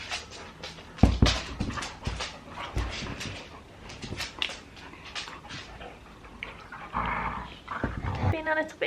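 Dogs whimper and growl up close in a home, in short bursts and squeaks mixed with thumps and shuffling, while a person talks over them.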